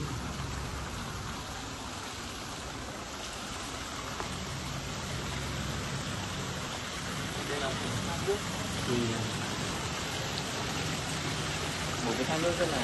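A garden sprinkler sprays water beside large stone features and a stream in a landscaped yard, giving a steady, broad hiss of falling droplets that runs continuously with slight swells toward the end.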